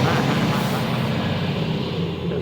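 A large fire engine truck passing on a city street just across the road, a loud continuous engine rumble and roar that stays steady and close for the whole stretch.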